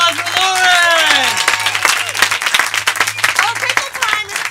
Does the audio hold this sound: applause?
yes